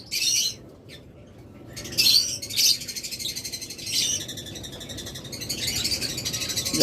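A parblue opaline budgerigar chirping, close bursts of high twittering calls with gaps between, over quiet background.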